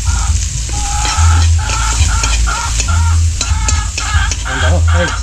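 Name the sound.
onion and soy sauce added to a pan, sizzling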